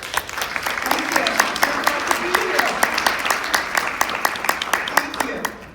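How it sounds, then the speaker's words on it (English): A round of applause for a speaker at a partnership announcement: a modest crowd claps steadily, with sharp individual claps standing out at an even rhythm throughout. "let's give a nice round of applause for her"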